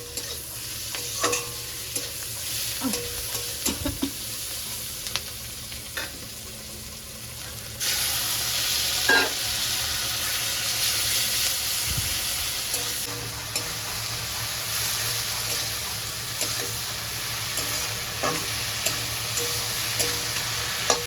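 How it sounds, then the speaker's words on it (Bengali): Onion and green chilies frying in a pan, with a continuous close sizzle, a louder burst partway through, and frequent stirring clinks and scrapes throughout. "পেঁয়াজ আর কাঁচা লঙ্কাটাকে আগে ভেজে নিচ্ছি"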